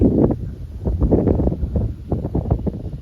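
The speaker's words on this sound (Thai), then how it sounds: "ทั้งลม ทั้งฝน" Gusty wind rumbles steadily against the microphone in uneven, buffeting surges, with rain.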